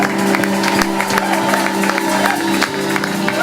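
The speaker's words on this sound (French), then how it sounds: "pendant que Jésus rentre sous vos acclamations, des cris de joie" A church congregation at a jubilee service acclaims and shouts with joy, a loud continuous crowd of cheers, whoops and clapping, with sustained musical tones underneath.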